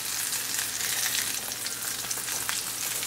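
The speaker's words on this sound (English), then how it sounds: "we're going to cook 4 minutes on this side, then we're going to turn them over" Chicken chapli kebabs fry in a pan with a steady, dense sizzle and crackle, close and continuous with small pops, no voices over it.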